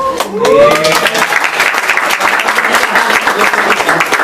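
A church audience bursts into applause for a pastor, dense and loud clapping that starts right away and carries on steadily, with a few voices briefly audible at the start.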